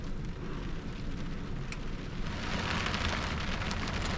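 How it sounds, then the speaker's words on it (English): Steady heavy rain pouring down on a camping site, a dense continuous hiss with occasional sharper drops, fairly close. "It's raining pretty good out there."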